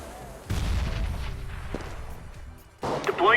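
A grenade blast in a shooter game lands as a sudden loud boom with rolling rumble, followed by scattered gunfire and another burst of combat noise near the end.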